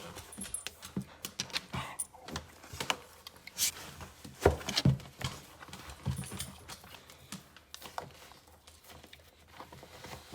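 A dog moves about nearby with clicking, pattering steps and jingling tags, letting out occasional soft whimpers amid scattered light knocks and rustles.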